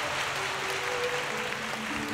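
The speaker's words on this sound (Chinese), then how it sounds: "就让我们用最热烈的掌声" An audience at a lecture hall gives dense, steady applause to welcome Professor Pai Hsien-yung before his guided talk on Dream of the Red Chamber. The clapping fills the whole moment at an even, moderate level.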